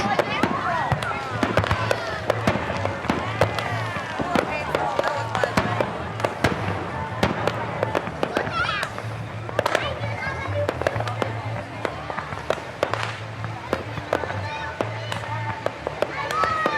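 A fireworks display over Mile Beach in Darwin crackles and bangs continuously with dense, overlapping bursts and pops, heard from among a gathered crowd of families and chattering voices.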